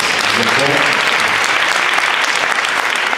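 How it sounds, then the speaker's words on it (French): A crowd applauds steadily and loudly throughout, with a brief voice audible near the start under the clapping. "Ça s'applaudit."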